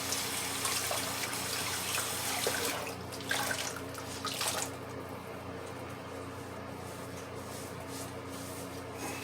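Tap water runs steadily into a sink for warming before a razor shave, giving a constant hiss with a few brief splashy surges partway through and no voices.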